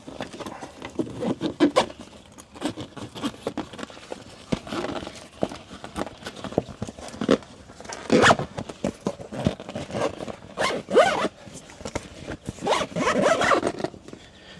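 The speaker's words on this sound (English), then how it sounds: "Zip it up." Zipper on the window of a Kemimoto soft cab enclosure fitted to a Kawasaki Teryx 4 UTV, zipped repeatedly in bursts of rasping pulls with small rustles of fabric between them, close and fairly loud, no talking.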